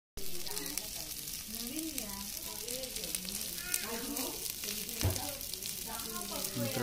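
Chicken fries on hot clay roof tiles over a wood-fired hearth, giving a steady, close sizzle with crackling pops and occasional stirring scrapes, while a voice talks over it throughout.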